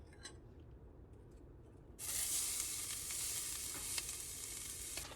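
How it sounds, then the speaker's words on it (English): Onions drop into a stainless steel pan and burst into a loud, bright sizzle after a quieter opening, then keep frying steadily close by with faint clinks. "if you saute onions first, it gets even better"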